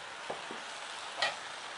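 Chicken chow mein sizzles steadily in a pan as it is stirred, with a few soft scraping clicks of the utensil and one brighter clatter near the end.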